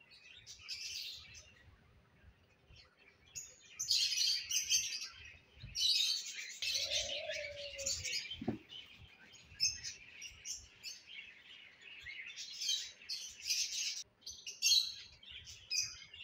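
Hand-fed cockatiel chicks give bursts of shrill, raspy begging chirps in repeated clusters, close by, with a brief tonal squeak midway and quiet handling noises beneath.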